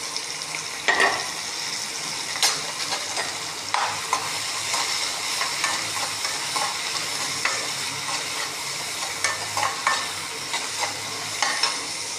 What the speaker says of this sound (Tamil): இப்போது வெங்காயம், பச்சை மிளகா, கருவேப்பிலை, கொத்தமல்லி நம்ம இந்த மாதிரி போட்டுக்கலாம்.